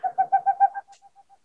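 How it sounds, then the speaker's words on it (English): Boreal owl giving its basic call: a run of five or six loud, even hoots in quick succession, then a string of much fainter, evenly spaced hoots trailing off, with no other sound around. "that's the basic Boreal call that I'm hearing on a regular basis"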